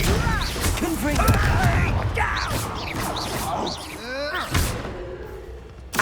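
Confringo and other spells cast in Hogwarts Legacy wizard combat give repeated thumping blasts and crashing impacts. Shouting voices sound over the clashes throughout.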